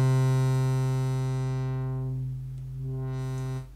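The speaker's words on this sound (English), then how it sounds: "that is the cutoff for the filter" A synth tone with a rich harmonic stack, its brightness sweeping down and back up as the filter cutoff knob on a USB MIDI controller is turned, sustained and alone with no talking.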